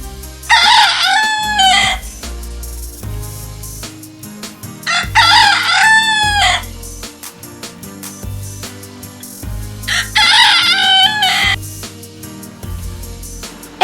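A rooster crows three times, each loud, close call separated by a pause of a few seconds, over a low steady background hum.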